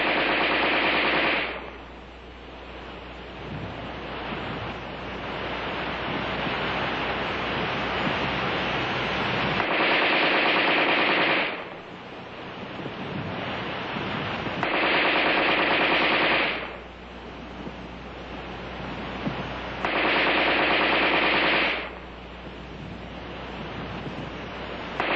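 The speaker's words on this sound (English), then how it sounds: "The preceding demonstration of rapid fire illustrated the use of preloaded magazines." Armalite AR-10 rifle firing rapid automatic bursts with preloaded magazines, three long sustained strings of dense, loud gunfire separated by pauses filled with steady background noise.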